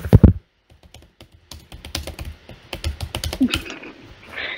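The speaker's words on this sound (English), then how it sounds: "You're typing so aggressively." Hard, fast typing on a computer keyboard, a dense run of sharp key clacks with a few heavier thumps at the start, close and fairly loud, with no talking.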